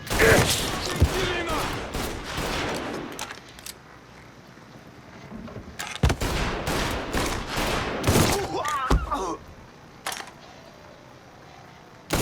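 Gunfire in the Mafia III video game: loud, rapid bursts of shots in several clusters separated by brief quieter gaps, with voices briefly shouting between them.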